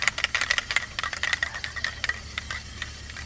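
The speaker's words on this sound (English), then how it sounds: "You need to shake your can while you're painting?" A Plasti Dip aerosol spray can rattles and hisses as it sprays, with a quick run of sharp clicks from the mixing ball over a steady airy spray, close and fairly quiet.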